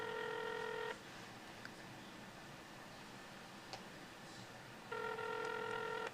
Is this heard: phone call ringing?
yes